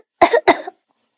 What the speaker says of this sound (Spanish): Está tosiendo y se cubre la boca con el brazo, así.